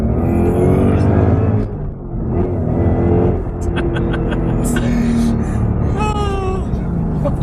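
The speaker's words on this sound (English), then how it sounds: "How about another second gear pull?" A 2017 Ford Mustang GT with a Roush supercharger, about 670 horsepower, pulls hard in second gear, its engine note rising loud and close, with a short dip at a shift, then climbing again with supercharger whine above the rumble.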